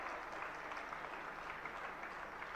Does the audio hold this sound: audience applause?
yes